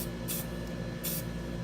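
Stencil ink sprayed onto a large sign in two short bursts, a soft hissing spray repeated twice over a steady low background hum, fairly close and with no talking.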